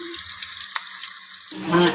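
Hot oil sizzles and crackles continuously as kola urundai dumplings fry close by, with a brief louder bubbling burst near the end.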